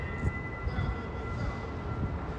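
A train rumbles steadily at close range, its low, dense mechanical noise filling the whole stretch with a faint whine running above it, and no voices heard.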